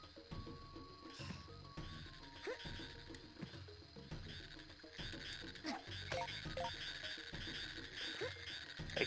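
Frogs in a Tarzan video game croak in repeated ratcheting bursts over game music and ambience. The calls recur throughout and sit fairly close.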